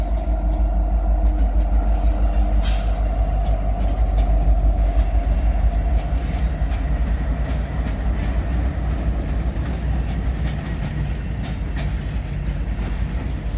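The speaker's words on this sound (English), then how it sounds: "Oh, train coming." Train rolling past a cemetery at the former Lapeer State Home, a loud continuous rumble with rail clatter and a brief high screech near the start, holding steady throughout with no voices.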